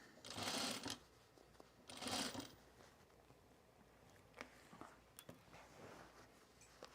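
A sewing machine runs in two short, close bursts while stitching quarter-inch seams on a pair of jeans, followed by quieter handling taps and rustles.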